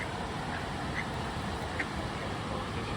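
Ducks at a lakeside in Krka National Park, Croatia, give a few faint, scattered quacks against steady outdoor background noise.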